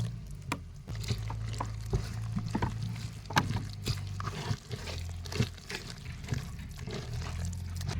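Water being stirred into a loose bread bajji batter of gram flour with ajwain, salt, ginger paste and turmeric, giving uneven sloshing and mixing splashes against a bowl with a steady low background hum.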